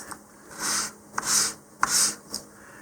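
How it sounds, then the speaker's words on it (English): Fine 220 grit sandpaper rubs along the fin of a model rocket in three or four steady back-and-forth strokes, close and soft with a dry rasping texture. "220 grit sandpaper here. You can even sand the edges a little bit if you want."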